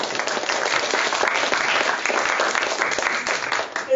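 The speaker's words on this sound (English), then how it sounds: "Give yourselves a round of applause." A seminar audience claps for themselves in a sustained burst of applause, close and lively, the hand claps dense and fairly loud until a final stray sound at the end.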